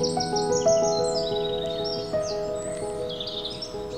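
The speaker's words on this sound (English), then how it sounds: "I can hear birds singing again." Small birds sing in spring with quick, high chirps and trills that repeat across the whole stretch, set against a steady, even outdoor background with no voices.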